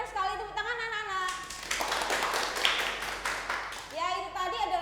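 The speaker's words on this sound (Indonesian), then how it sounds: "Tepuk tangan anak-anak." Children in a classroom clap their hands together in a burst of applause lasting a few seconds, with a teacher's voice speaking before and after the clapping.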